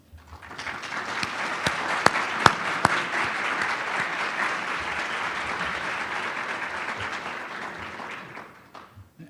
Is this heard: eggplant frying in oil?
no